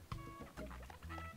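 Chickens cluck in short quiet bursts in the video game Monkey Island 3, a soft patter of clucks with no talk over them.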